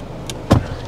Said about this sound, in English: I'm just gonna close the sunroof now.